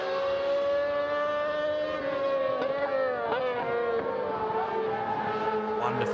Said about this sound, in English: emanating from the Estoril circuit this weekend with the high-revving 600cc sidecars at play.